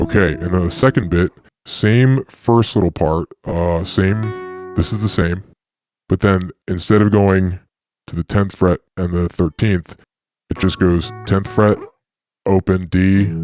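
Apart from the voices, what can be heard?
No everyday noises stand out.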